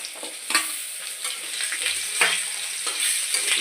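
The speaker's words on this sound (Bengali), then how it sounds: "এবার ওর মধ্যে আমরা আলু দিয়ে দিচ্ছি ভাজার জন্য" Potatoes frying with pointed gourd in a pan, a steady close sizzle broken by repeated stirring scrapes, with no talking.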